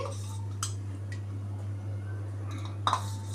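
A kadai pan is set down on a stovetop, giving a few light metallic clinks and one sharper clatter near the end over a steady low hum, with no talking.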